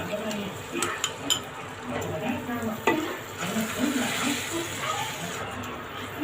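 Mutton cooks on medium heat with whisked sour yogurt added, giving soft sizzling and frying under repeated scraping and stirring strokes against the pan, with occasional utensil clinks.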